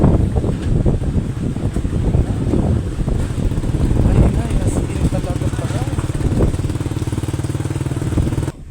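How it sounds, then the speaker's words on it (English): Strong wind and rain from Super Typhoon Uwan in the Philippines make a heavy, continuous low roar with gusting buffeting against the microphone, and a voice is heard through it. "Grabe tong bagyong to, all-in-one, hangin, malakas, ulan,"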